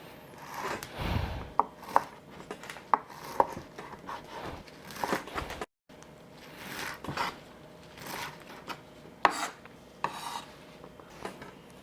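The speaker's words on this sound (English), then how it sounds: "I'm going to cut this up and add it to the tofu." Hydrated vermicelli being cut up, a series of close, soft rasping snips and scrapes in irregular bursts with brief pauses, quiet and alone.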